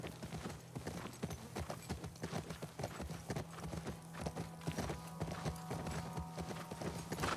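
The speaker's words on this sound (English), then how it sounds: "Alright, let's get back on the horse." Horse hooves in The Last of Us Part II clatter in a fast, steady rhythm, a clear repeating gallop of loud clip-clops over a constant low background hum.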